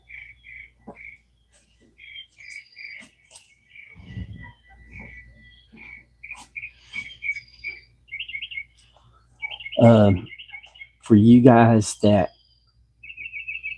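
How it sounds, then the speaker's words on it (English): Small birds chirping and tweeting at dawn near a live outdoor camera, with repeated thin calls throughout, faint and somewhat distant over a low background hum, and someone briefly speaking partway through. "the bird sounds with the chimes"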